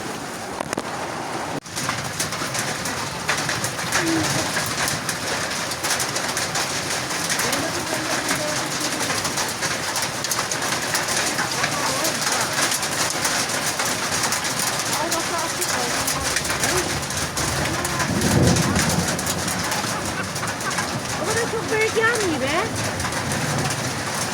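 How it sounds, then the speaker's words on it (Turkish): Hail and rain pour steadily onto a mountain plateau, a dense continuous patter close around, with birds cooing and chirping through it and a person speaking briefly. "Kafam kadar dolu yağıyor."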